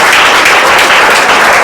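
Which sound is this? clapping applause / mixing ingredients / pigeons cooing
clapping applause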